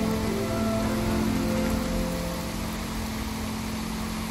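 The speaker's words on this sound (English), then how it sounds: "It's been raining all damn day." Heavy rain pours steadily in the Fallout Z video game, a dense continuous hiss that fills the whole stretch with no speech over it.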